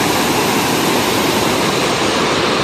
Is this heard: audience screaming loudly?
no